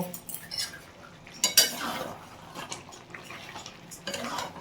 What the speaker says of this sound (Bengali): এবার এটা দিয়ে আমি একটু ভালো করে নাড়াচাড়া করে নেব